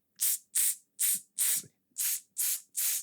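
Seven short, loud bursts of aerosol spray hiss in a steady rhythm, each about a quarter second long with brief gaps between, close to the listener.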